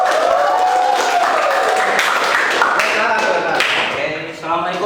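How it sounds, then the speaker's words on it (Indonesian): Applause from a university design-class audience as a student is invited to the front, a dense, loud clatter of many hands clapping at once, sustained and easing slightly near the end. "kasih tepuk tangan dulu"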